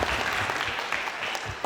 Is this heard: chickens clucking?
no